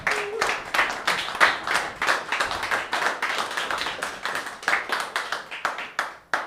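Comedy open mic crowd clapping steadily, a moderate patter of hands from a small audience, fairly close and continuing evenly for several seconds without speech.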